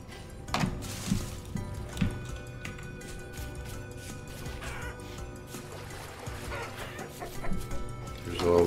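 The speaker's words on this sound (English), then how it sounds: "There's all those chickens." Chickens cluck in the video game Vintage Story, scattered short calls rising now and then over a busy, rustling game backdrop of footsteps and ambient noise, fairly quiet with no talking.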